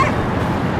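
Dog in the video game Cryostasis giving short barking yips over a steady low game ambience, the whole sound lasting under a second and fairly loud.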